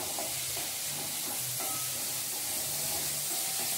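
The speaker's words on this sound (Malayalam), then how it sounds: "ഉള്ളിയും പച്ചമുളകും കറിവേപ്പിലയിലേക്ക് ഇങ്ങനെ വെളിച്ചെണ്ണയിൽ ഇങ്ങനെ മൂപ്പിക്കുമ്പോൾ" Onion, green chili and curry leaves frying in coconut oil, a steady close sizzle and hiss running throughout with faint stirring and no talk.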